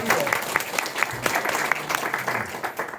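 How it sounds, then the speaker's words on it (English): An audience at a Bhagavad-Gita talk claps for the speaker. The applause is steady and moderately loud for a few seconds, with sharp individual claps standing out from the crowd. "everyone give a big applaud to Prabhuji."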